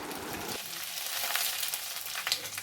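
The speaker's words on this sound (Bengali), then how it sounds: "শুকনো লঙ্কা ফোড়ন দেবো, 1 চামচ আদা বাটা দিয়ে দেবো" Dry red chillies and ginger paste hitting hot oil in a pan, a brief bubbling sputter that settles into a soft, steady sizzle, quiet and close with no voices.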